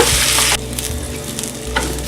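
Loud sizzle of basmati rice with cloves and cardamom hitting a hot pan, dropping after a moment into quieter crackling with brief stirring scrapes.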